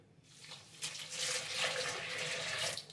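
Warm milk is poured into a bowl, a close, steady liquid stream rising in volume and continuing for a couple of seconds over faint room noise.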